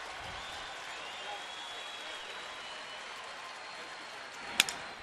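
A Saturday night baseball crowd in a downtown Cleveland stadium keeps up a steady, distant roar of cheering and clapping for the pitcher, and a sharp crack sounds near the end.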